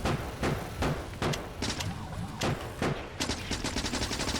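Rapid automatic submachine gun fire from Factorio gameplay, mowing down small enemy creatures; repeated sharp bursts of shots, close and loud, with no voices over them.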